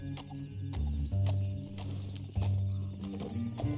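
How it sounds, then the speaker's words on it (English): A horse steps carefully across rock in Red Dead Redemption 2, giving a handful of close, uneven hoof clops over a low steady drone. "O cavalo tá testando a pedra."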